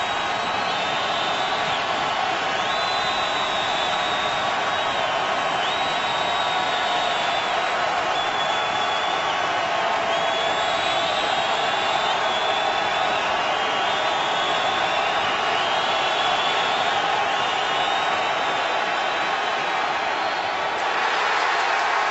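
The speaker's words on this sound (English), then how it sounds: "Third and 11, and this crowd is in full throat." A packed NFL stadium crowd at a Buccaneers–Raiders game roars continuously on a third-and-11, a loud, unbroken wall of noise lasting the whole stretch.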